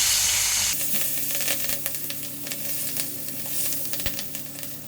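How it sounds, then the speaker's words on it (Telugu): Steady, close sizzle of green chillies frying in oil, with scattered crackles and pops throughout, no voices. "ఇప్పుడు ఇందులో పచ్చిమిర్చి వేసుకొని మంచిగా ఫ్రై చేసేసుకోండి."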